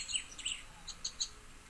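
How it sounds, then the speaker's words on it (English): Birds chirping outdoors on a sunny day: short, bright tweets in quick clusters, moderately faint and at some distance, with no talking. "it's a nice sunny day and the birds are chirping"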